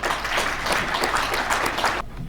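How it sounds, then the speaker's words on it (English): Audience applause welcoming a speaker to the stage at a talk on trauma prevention, a dense steady wash of many hands clapping close and loud for about two seconds before cutting off sharply. "Give him a round of applause, please."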